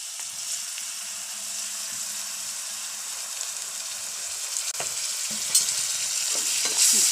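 Onion, chilli and spices being stir-fried with tomato sauce in a pan for a simple homemade pasta: a steady sizzle runs throughout, with occasional spoon scrapes and knocks against the pan, no talking.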